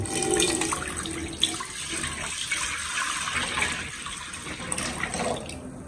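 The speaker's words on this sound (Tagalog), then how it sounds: "Ngayon naman sa ating pan, ilalagay na natin yung ating tubig." Water poured from a container into a pan while preparing a no-steam, no-bake leche flan, a steady splashing and running stream that goes on without a break for several seconds, close by, with no talking.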